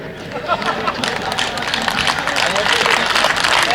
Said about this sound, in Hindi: 4-5 लोगों ने ताली बजाई